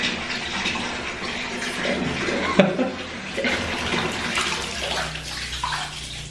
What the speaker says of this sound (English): we need a little help pouring the water